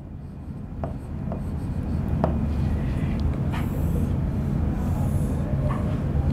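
Chalk or marker scratches and rubs across a board during a Class 10 physics lesson on electric motors, with a steady, continuous writing sound over a low background rumble.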